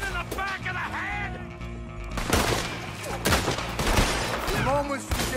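A close, loud gunfight in Red Dead Redemption 2, with rapid overlapping gunshots and sharp cracks bursting in clusters over a busy game soundtrack. Shouted voices mix in.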